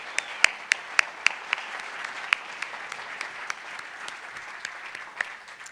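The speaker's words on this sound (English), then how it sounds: "How about one more round of applause for Caitlin and all of the finalists?" Sustained applause from an audience at an award ceremony, a steady wash of clapping with a few sharper close claps standing out, no voices over it.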